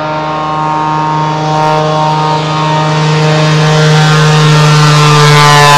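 A propeller-driven float plane drones steadily and loudly, its buzzing engine tone holding even and swelling slightly as it passes close, with no voices.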